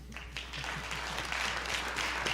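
An auditorium audience at a Sorel-Tracy municipal election debate claps for the candidates. The applause starts quietly and swells into a steady, moderately loud patter over a low hum.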